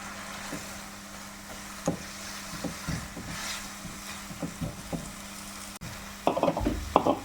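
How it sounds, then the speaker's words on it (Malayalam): Jaggery syrup and ripe plantain being stirred together in a pan for a Kerala sweet, with a soft steady sizzle and scattered scraping knocks, growing louder and busier near the end. "നല്ലോണം ശർക്കരപ്പാനിയും ഏത്തക്കായും കൂടെ നല്ലോണം മിക്സ് ചെയ്തെടുക്കും"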